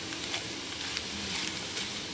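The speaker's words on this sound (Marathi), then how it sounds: "दुसरी बॅच टाकते तळायला" A batch of corn chivda fries in hot oil, a soft, even sizzle and bubbling that holds steady at low level with no voices.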